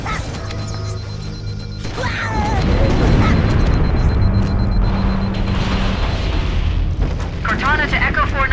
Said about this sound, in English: That should be enough to trigger a wildcat explosion of the engines.